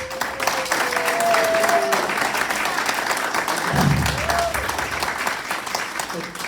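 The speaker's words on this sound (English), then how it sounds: "Round of applause." Audience applause for presenters at a book event, steady clapping from a crowd with a voice speaking briefly over it partway through.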